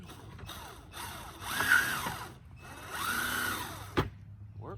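A power drill drives screws while a KidKraft Ainsley playhouse swing set is assembled, with two whirring bursts that rise and fall in pitch, a sharp knock near the end, and quiet surroundings.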